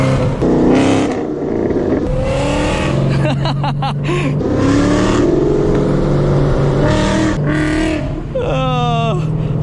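A boosted Ford Mustang engine growls loud and close, revving with sharp throttle blips and rising pitch, joined by passing road noise while people talk over it.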